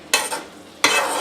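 Meat for a quinoa meat sauce cooking in a pan, two short bursts of stirring and sizzling scrape separated by a quiet gap, near and fairly loud.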